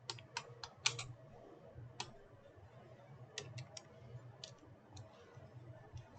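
Clicks from a computer keyboard as a party name is typed into Busy accounting software, quiet irregular bursts of several rapid keystrokes separated by short pauses.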